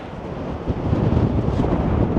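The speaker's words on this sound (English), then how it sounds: "the wind up here" Strong wind roars steadily across the microphone on a hilltop at a Scottish castle ruin, a dense continuous rush with gusty swells and no voices.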